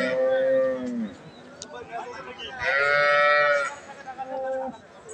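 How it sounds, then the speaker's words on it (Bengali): Holstein Friesian cows lowing on a dairy farm, a long falling moo at the start followed by a second drawn-out, strained call, close and loud, with quieter shuffling and farm noise between the calls. "মাশাআল্লাহ হলস্টাইন ফ্রিজিয়ান গাভীটা বেশ সুন্দর।"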